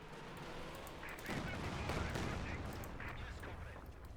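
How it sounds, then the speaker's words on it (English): A Katyusha rocket barrage in Company of Heroes 2 rumbles as a loud, sustained volley of booming launches and impacts, thickening after the first second and holding steady to the end, with no talk over it. "Less impressive Katyusha barrage"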